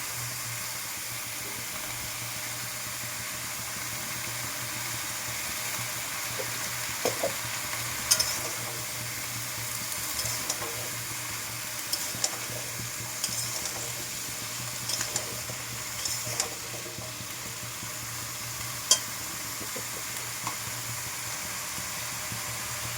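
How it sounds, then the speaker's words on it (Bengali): Mixed vegetables with dried shrimp fry in a pan under a steady, soft sizzle, broken by scattered clicks and scrapes of stirring, fairly quiet and close with no talking. "নেড়ে চেড়ে ঢেকে দেবো"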